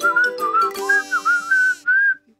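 Short whistled jingle for a comedy podcast segment, a lively tune of several quick notes followed by one held note, close and clear with no talking.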